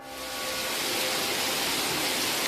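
Heavy storm rain pours down in a dense, steady hiss that swells in the first half second and then holds loud and unbroken, with no voices over it.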